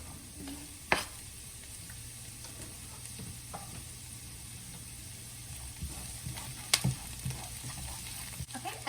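Green onions, thyme and habanero cook in a pan with a soft, steady sizzle, faint and close, broken by a couple of louder clicks of a utensil stirring against the pan.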